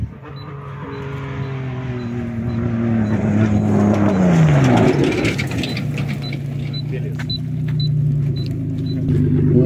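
Rally car engines roar and whine past on a Super Prime stage in Brazil, swelling louder in the middle, with a person talking over the noise.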